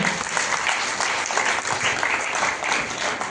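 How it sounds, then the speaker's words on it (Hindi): A crowd at a public event honouring a women's police patrol team gives loud, sustained applause with thick, continuous clapping throughout. "एक बार और जोरदार तालियां।"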